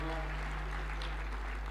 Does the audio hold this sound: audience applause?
yes